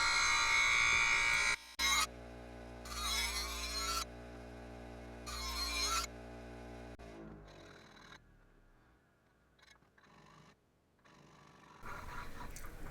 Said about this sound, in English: back to the smooth wheel for some more touch-up